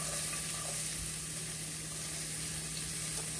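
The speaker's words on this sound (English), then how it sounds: "So let's get the onions in." Chopped onions fry in a pan for spaghetti sauce, giving a steady, dense sizzle that holds evenly throughout with no talking.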